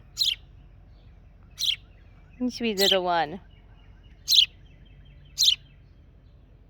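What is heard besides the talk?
pet bird chirping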